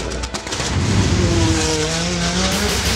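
A Hot Wheels car speeds down an orange track with a loud, continuous whooshing roar and a rising whine, with no voices.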